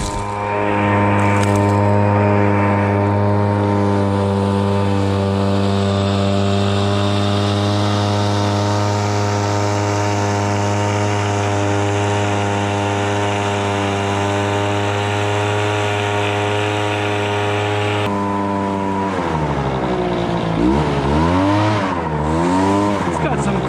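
A 79cc, 930 CFM backpack leaf blower engine runs loud and close at a steady high whine for most of the stretch, then its pitch swings and wobbles as it revs up and down near the end.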